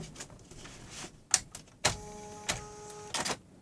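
An Oki-Data Oki-Mate 20 thermal printer powers on and initializes with a series of short mechanical clicks and clunks, followed by a brief whirring motor buzz and more clacks, quiet and close with no voices.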